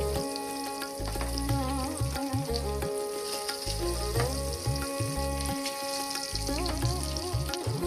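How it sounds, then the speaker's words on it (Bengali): Eggplant pieces fry in a generous amount of oil until reddish, giving a steady close sizzle with crackling bubbles, accompanied by faint background music and no talking. "লালচে করে বেগুনগুলোকে ভেজে নিলাম।"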